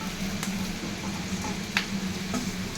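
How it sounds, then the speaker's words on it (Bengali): Fried chicken pieces tossed into a hot pan for chilli chicken, giving a steady sizzle and frying hiss with a few faint stirring knocks, close and continuous. "এরপর ভেজে রাখা চিকেনগুলোকে দিয়ে দেবো"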